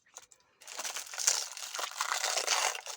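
A well-wrapped washi tape package is unwrapped close by, giving a few soft rustles and then a continuous crinkling and crumpling of paper or plastic wrapping, with no one speaking.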